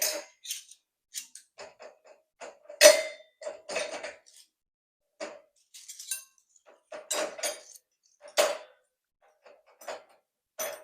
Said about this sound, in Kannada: ಸ್ಪೂನ್ಸ್ ಎಲ್ಲ ಹಾಕ್ತೀನಿ ನೋಡಿ ಇವಾಗ ಇದಕ್ಕೆ ಸ್ಪೂನ್ಸ್ ಹಾಕಿ